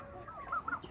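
Young Silkie and Brahma chickens, five weeks old, give a few soft, quick clucks and peeps close by, faint against a quiet background.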